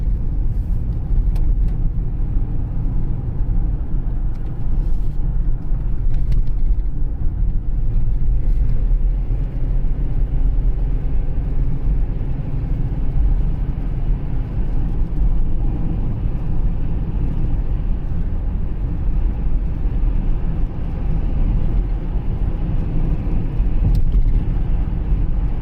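A 2006 Pontiac Montana minivan's 3.5L V6 running at raised RPM, a loud, steady low rumbling drone that holds constant for the whole stretch with no talk over it.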